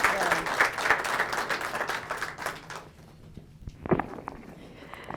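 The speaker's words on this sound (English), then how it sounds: "Can everyone give Senator Cardin a big round of applause?" A room of attendees at a small business event applauds Senator Ben Cardin, with dense clapping for about three seconds before it fades, followed by a few scattered claps and light shuffling.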